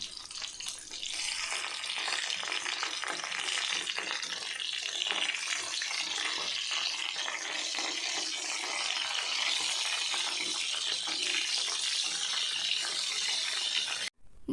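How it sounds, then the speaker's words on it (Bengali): Katla fish pieces fry one by one in hot oil, giving a steady, dense sizzle and spatter that stays loud and unbroken, with no voices over it. "তেলটা গরম হয়ে আসলে আমি এর মধ্যে একে একে মাছগুলোকে তেলের ওপর ছেড়ে দিচ্ছি।"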